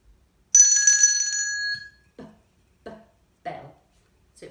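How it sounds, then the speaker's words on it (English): Agogo bell struck once with a bright ringing tone that decays over about a second, followed by a few short, soft sounds in near silence. "So it was the agogo."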